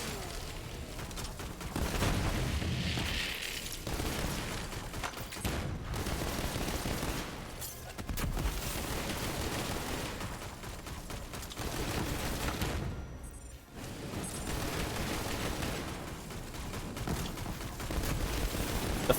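Rapid automatic gunfire from a weapon in Borderlands 3 hammers away almost continuously, loud and dense, with only a few brief breaks between long sustained bursts.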